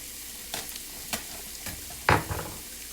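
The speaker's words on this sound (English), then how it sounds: "That's sauteing nicely." Vegetables sauteing in a pan, heard as quiet, scattered scraping and sizzling bursts from stirring, with a louder clatter near the end and no talking.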